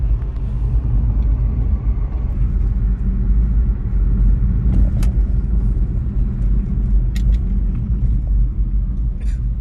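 Car driving on a road, heard from inside the cabin: a steady low rumble of engine and tyres continues throughout, with faint occasional clicks and no talk.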